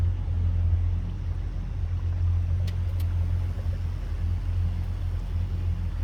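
A tour boat motors through the narrow Fern Canal in Winter Park, Florida, its engine a steady, close, low rumble with faint water wash, continuous and unbroken with no voices.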